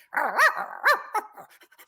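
A voice actor imitates a dog, producing a few quick barks followed by short panting breaths, close and clear with no other sound around it.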